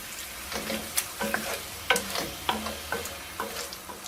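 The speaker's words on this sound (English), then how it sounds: "So you just cook the prawns just for 2 or 3 minutes" Prawns sizzle in a frying pan during a sweet and spicy shrimp stir fry, with a steady hiss broken by regular stirring scrapes and clinks, close and moderately loud with no talking.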